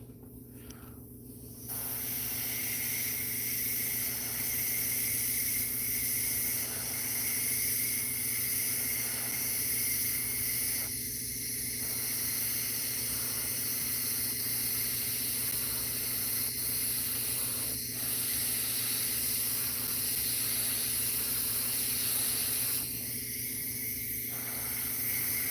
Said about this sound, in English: But the way I have to spray it, going in this direction